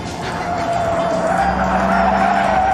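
Car tyres squeal sharply in a short skid, a loud sustained screech lasting a couple of seconds over engine noise, close by and without speech.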